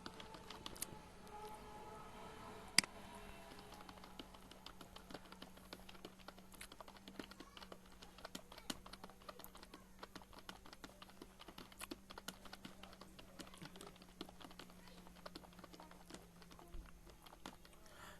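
Keys click on a computer keyboard in a quiet room as someone types. The taps come in faint, irregular runs with one louder clack near the start.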